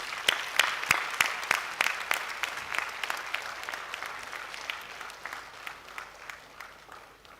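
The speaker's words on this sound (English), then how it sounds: "One huge round of applause, please." An awards-ceremony audience honoring an Indian Army colonel breaks into applause, sharp claps standing out at first and then settling into a steady, fading patter with no talk over it.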